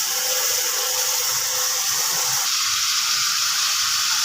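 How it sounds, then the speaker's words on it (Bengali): Potatoes go into hot oil with fried spice masala, making a steady, loud, close hiss of sizzling that swells and brightens about halfway through as the pieces hit the oil. "কিন্তু আমি এখন আলু দিয়ে দিচ্ছি।"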